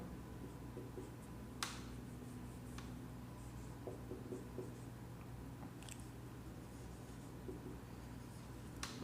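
Teacher writing a question on a board: faint, irregular scratching and tapping strokes over a quiet room hum, with a few sharper taps and no talking.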